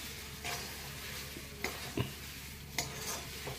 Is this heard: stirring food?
yes